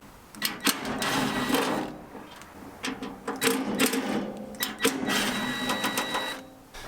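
Screws are driven out of a Pit Boss Austin XL 1000 pellet grill in several short mechanical whirring bursts mixed with clicks and metal rattles, close up.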